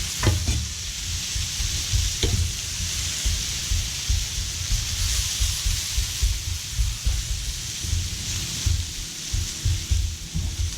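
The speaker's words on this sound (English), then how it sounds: "We're going to add the sausage, any juices off of the pan they were in, back into the pan. Mix them up a bit." Sausage sizzles steadily in a paella pan while it is stirred, with a dense, loud frying hiss and repeated scraping strokes continuing throughout, with no talk.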